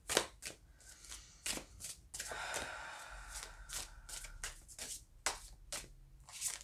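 Brisk riffling and slapping of a deck of tarot cards being shuffled close up, in repeated quick bursts with a longer shuffle in the middle.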